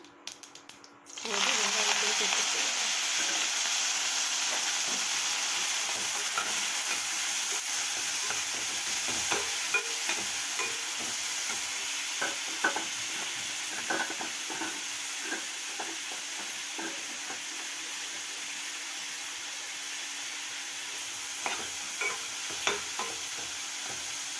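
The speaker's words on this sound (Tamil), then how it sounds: "பூண்டு சேர்ந்து நல்லா வதங்கட்டும்" Crushed garlic fries in hot oil for an egg kuzhambu, giving a continuous close crackle and sizzle with occasional stirring scrapes. A sharp burst opens the sound as the garlic drops in, then the frying holds steady and fairly loud.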